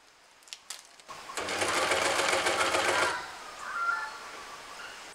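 A sewing machine stitching garments runs in a steady, close buzzing whir for about two seconds, preceded by a few light clicks and followed by a quieter tail with faint birdsong.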